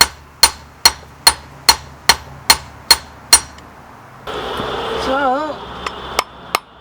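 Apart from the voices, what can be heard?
hammer forging knife bevels on viking style anvil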